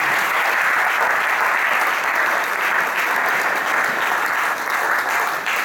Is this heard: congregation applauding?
yes